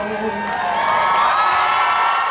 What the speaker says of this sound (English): I think they thought it was planned because the crowd went nuts